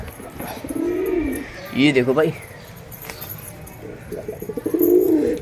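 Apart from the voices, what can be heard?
pigeons cooing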